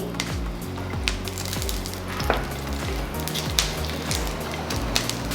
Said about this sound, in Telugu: ఒక మూడు నాలుగు పచ్చిమిర్చిని ముక్కలు చేసుకొని వేసుకోవాలి